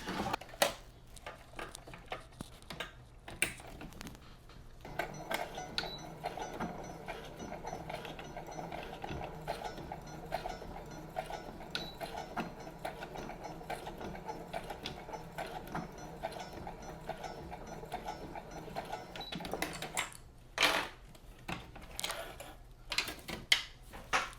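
A sewing machine fitted with a zipper foot stitches a quilted zipper pouch, a steady quiet mechanical whir with rapid ticking running almost continuously, broken by short pauses and clicks near the start and end.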